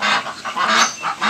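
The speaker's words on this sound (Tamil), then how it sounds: "பெக்கின் வாத்து" A white Pekin duck on a farm gives a run of loud, close, nasal quacks in quick succession with short gaps between calls.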